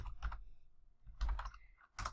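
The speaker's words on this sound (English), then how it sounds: "And then I'm just going to type out SVG" Computer keyboard typing in a quiet room, with three short bursts of rapid key clicks separated by brief pauses.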